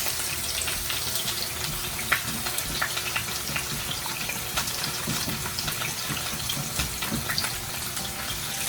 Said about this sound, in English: I'm going to let it sear on the top, bottom, and the sides